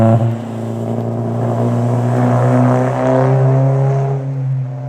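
A modified Volvo 240 drones steadily through its exhaust while driving, a deep, throaty tone that rises and swells a little as the car pulls, heard from inside the cabin.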